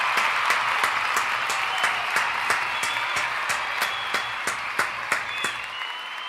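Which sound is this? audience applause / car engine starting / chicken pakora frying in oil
audience applause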